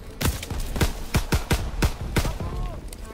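Rapid gunfire in Call of Duty WWII, a string of about ten sharp cracking shots at an uneven, quick rhythm, close and loud, with no talk over it.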